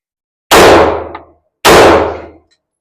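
Two loud, sharp pistol shots ring out about a second apart at a Navy qualification range, each with a brief decaying echo, followed by silence.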